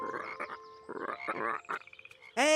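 Cartoon frogs croak in quick, rough bursts, followed by a rapid run of small ticking croaks and ending on a sudden higher, brighter warble, all fairly close and without speech.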